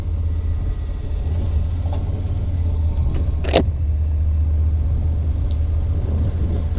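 A 2014 Honda CTX700 DCT automatic motorcycle pulls away from a stop, its engine a steady low rumble close by, with a brief mechanical clunk partway through and no talk.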